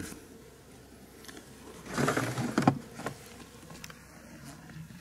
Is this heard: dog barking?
no